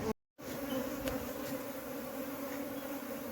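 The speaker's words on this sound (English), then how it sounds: "Quite a lot of bees." A swarm of bees buzzes densely and steadily around an old tree stump during a hive removal. The buzzing is a close, continuous drone after a brief dropout at the start.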